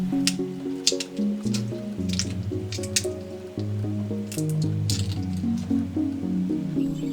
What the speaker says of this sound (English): I peel the shrimps.